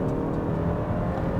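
2021 Hyundai Sonata N Line turbocharged engine accelerating in sports mode, a brief steady droning hum heard from inside the cabin.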